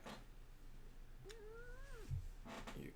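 A house cat gives one rising and falling meow, clear and fairly close, against a quiet room hum, with a soft low thump just after it.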